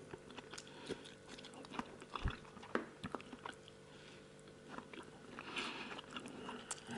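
Someone eats scrambled eggs, with soft close-up bites and chewing clicks that come irregularly against a quiet room.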